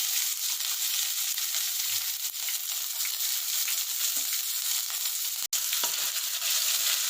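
Onion frying in a pan for an okra gravy gives a continuous, even, close sizzling hiss with a few faint stirring taps, no voices.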